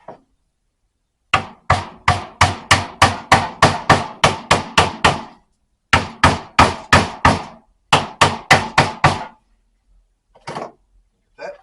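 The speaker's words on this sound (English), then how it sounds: "Get this hammered down." A hammer strikes wood while building a vanity, landing a long run of sharp, evenly spaced blows close by in several bursts with short pauses between them, then a few lighter taps at the end.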